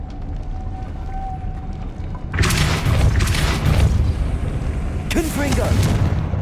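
The Depulso spell in Hogwarts Legacy on PS5 goes off as a loud, booming burst that rumbles for a few seconds, then a second blast follows. A voice is heard alongside.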